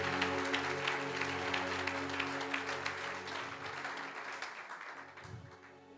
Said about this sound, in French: Acclame bien, comme ça on va clôturer.